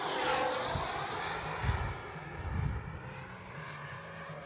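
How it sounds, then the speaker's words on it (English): FMS Integral 80mm RC jet with gear down making a fly-by, a steady high-pitched ducted-fan whine with a soft whoosh, fairly faint and distant with breeze in the background. "We fly by and make sure my gear is down"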